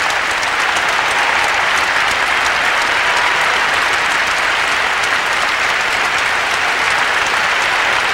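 Sustained, loud applause from a large arena crowd at the 1994 Lillehammer Olympic ladies' free skate, rewarding Canadian skater Josée Chouinard, steady and dense throughout with no pauses.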